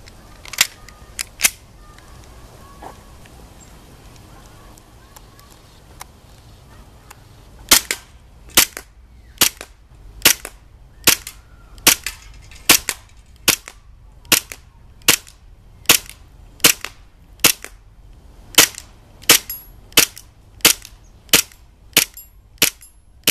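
A WE G17 Glock replica airsoft pistol fires a long string of sharp, snappy shots, a few scattered at first, then a steady rapid sequence of about twenty evenly spaced cracks, close and loud.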